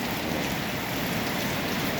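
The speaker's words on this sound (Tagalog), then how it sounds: "Lakas ng ulan dito sa labas." Heavy rain pours steadily outside, a dense continuous hiss of drops on surfaces with no gaps, close and loud throughout, with no voices.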